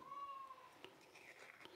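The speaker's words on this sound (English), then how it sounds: "if you hear somebody crying in the background, an animal, that's our old cat" A faint, drawn-out cat cry rises and wavers in the background, followed by soft indistinct rustling and light clatter.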